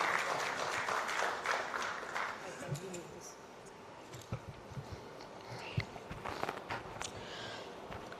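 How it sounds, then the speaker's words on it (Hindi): Scattered applause from an audience at a health conclave and awards ceremony, fading and thinning out into sparse individual claps and faint murmurs of voices in a large hall. "जोरदार तालियां गायत्री जी के लिए।"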